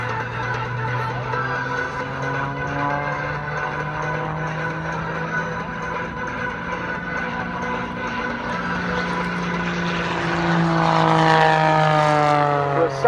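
A propeller aerobatic plane performs at the 2015 Salute America Airshow, its engine droning loudly and continuously with sweeping pitch shifts as it maneuvers, swelling louder toward the end.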